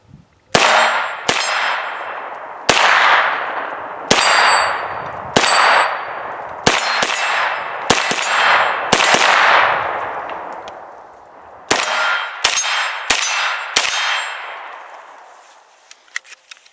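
CZ Scorpion firing at steel targets from about 25 yards: a dozen sharp shots come singly and in quick pairs, each ringing a bright metallic clang that fades out slowly. Nobody talks.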